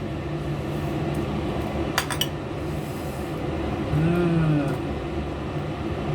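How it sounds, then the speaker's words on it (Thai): A ladle scoops vegetable soup with pork tenderloin and Chinese herbs from a pot, giving a few quick metallic clinks near the middle over a steady kitchen hum. "เดี๋ยวเรามาตักดูนะคะ"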